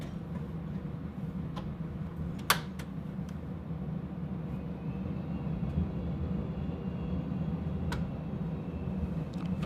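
Airliner on a simulated departure from Washington Dulles runway 30, with a steady low engine rumble throughout and a few brief clicks near the start.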